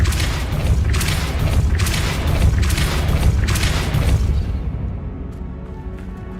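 The Depulso spell in Hogwarts Legacy lands as a series of deep, rumbling booms and bursts that repeat for several seconds, then fade to a softer low rumble.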